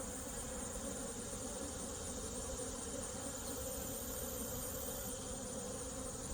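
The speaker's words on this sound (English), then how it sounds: "Lots of young bees in here, telling me that they're recently hatching out." Honeybee colony buzzing steadily inside an open hive full of young, newly hatched bees, a dense continuous drone at close range with no voices.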